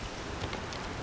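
Steady, dense rain hisses without a break in the video game The Witcher 3, a broad wash of heavy downpour close by with no voices.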